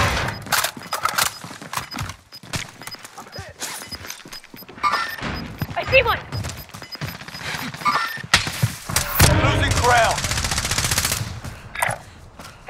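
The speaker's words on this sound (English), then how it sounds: "You're shooting at me." Gunfire in a Call of Duty: Modern Warfare battle royale match, with repeated bursts and single shots, thuds and crashes mixed among game effects and voice callouts throughout.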